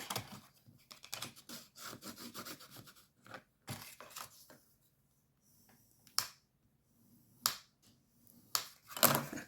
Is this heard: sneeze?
no